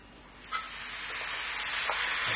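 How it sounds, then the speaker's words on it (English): A sudden hiss as garlic, chilli and lemongrass hit a hot wok, building into a steady, loud sizzle that keeps going. "we're just going to take all this over to the wok and fry it up"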